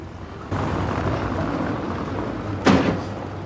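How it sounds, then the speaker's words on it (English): A bathroom door bangs once, a short heavy thud standing out over a steady low indoor rumble in a domestic scene. "Bathroom door was banging."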